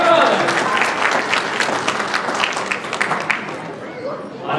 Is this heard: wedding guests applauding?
yes